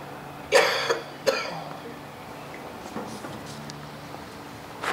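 Two light coughs close together, fairly near, followed by quiet room background with faint soft sounds.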